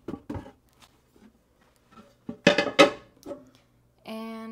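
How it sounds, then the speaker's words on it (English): Metal cooking pans clank and knock together in a few sharp bursts, followed by a ringing metallic tone, close by with no talking, in a home kitchen. "let me get my pans out"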